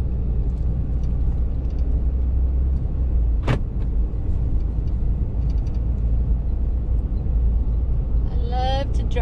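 A car drives slowly along a one-lane, tree-lined road in Fort Parker State Park, its steady low road rumble and engine drone continuous, with a brief sharp click midway and faint chirps near the end.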